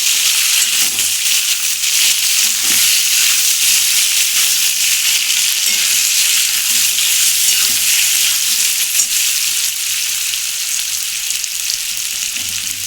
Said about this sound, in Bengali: কচুটা একটু ভাজা হবে।